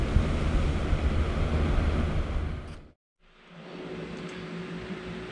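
Wind buffeting a GoPro Hero 7 Black fitted with a dead-cat wind muff, blowing from behind: a broad, fluctuating rush that cuts out briefly to near silence before resuming slightly quieter.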